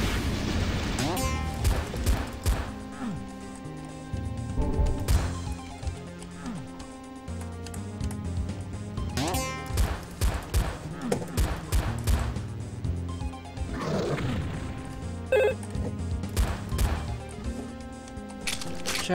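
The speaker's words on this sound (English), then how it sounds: "Shotgun." Shotgun blasts in a Doom 2 multiplayer match, repeated loud booming shots in quick bursts over game music and effects, with no talk.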